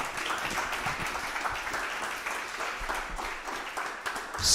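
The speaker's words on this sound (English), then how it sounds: "A big round of applause." Audience applause after a technical talk, a steady, fairly faint burst of many hands clapping together in a room, continuing evenly throughout.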